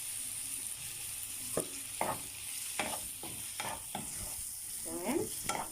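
Onion powder fries in a pan while a spoon stirs it, giving a quiet steady sizzle broken by repeated short scraping strokes, close up with no talk.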